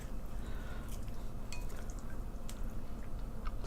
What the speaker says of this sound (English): So I'm going to give everything a mix together.